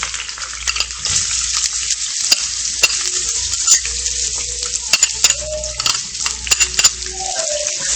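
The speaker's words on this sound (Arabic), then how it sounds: "وغنديرو هذيك البصله في هذيك الزيت اللي قلينا فيها الصوصيط." Onion frying in oil left over from cooking sausages, a loud, steady close sizzle with scattered pops, crackles and light utensil clinks throughout.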